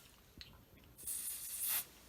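A short, steady hiss of 505 temporary fabric adhesive spray lasting under a second, close by, after a faint tap.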